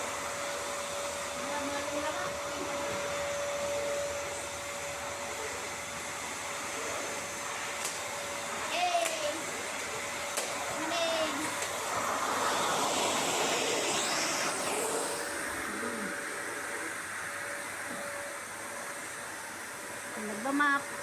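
A vacuum cleaner running indoors during household cleaning, a steady whooshing drone held for about twenty seconds with small knocks and shifts, while people talk over it.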